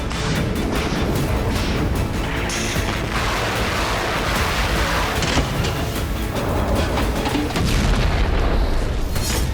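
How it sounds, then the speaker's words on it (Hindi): Heavy, continuous booming and rumbling like missile strikes and blasts hitting Ukrainian cities, loud and dense throughout with repeated sharp impacts and crashes layered over a constant low roar, no speech. "रूसी फौज ने यूं तो यूक्रेन के 18 शहरों में मिसाइल विस्फोट किया"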